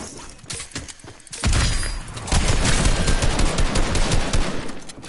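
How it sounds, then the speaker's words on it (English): Shotgun fire in a video game, a rapid dense barrage of loud blasts and impacts that builds after a quieter start and runs continuously. "I'm trying to target my shotgun"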